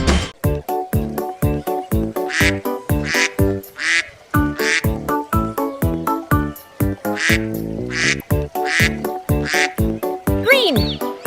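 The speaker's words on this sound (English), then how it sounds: "Mother duck said quack, quack, quack, quack" Cartoon-style duck quacks repeat in a quick, regular rhythm, loud and close, set to a bouncy children's song melody with voices singing along.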